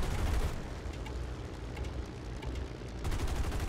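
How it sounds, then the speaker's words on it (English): Dense, continuous machine-gun fire and battle noise from a realistic aircraft battle in a video game, steady and loud throughout with no pauses. "Maniac is putting a lot of bullets into MP Cop"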